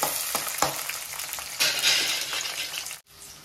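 Onions sizzling in hot oil while mutton boti fry is cooked, a steady close crackle with stirring scrapes and bursts of louder sputter, ending in a sudden brief cut before the fry resumes.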